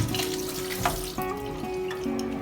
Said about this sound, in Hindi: पहले हम पानी से इसको थोड़ा सा धो लेंगे।